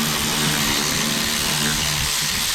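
A power tool whirs continuously at close range, loosening 8mm bolts underneath a car during an engine oil change, with a steady motor drone and no voices.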